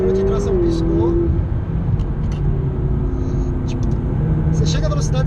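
A McLaren 650S engine drones and swells as the car accelerates in third gear, heard from inside the cabin beneath someone talking.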